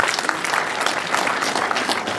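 Wedding guests applauding, a dense, loud, continuous burst of many hands clapping together close by for a couple of seconds without pause.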